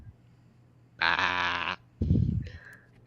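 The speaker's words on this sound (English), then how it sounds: "bleating of a goat" A female goat bleats close by, one long wavering bleat followed by a shorter lower second call, against a quiet background.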